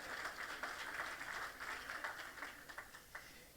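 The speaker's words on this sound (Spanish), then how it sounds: "Denle ese aplauso fuerte al Señor." A church congregation claps and applauds, a dense, even wash of hand claps lasting a few seconds that thins out slightly at the end.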